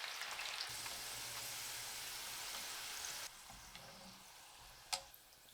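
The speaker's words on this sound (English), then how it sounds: "fry some dry chilies for 10 seconds. Also fry the shallots for about 2 minutes," Dry chilies and shallots frying in oil heated to 320 degrees, a steady close hiss of sizzling with occasional stirring clicks, easing somewhat partway through.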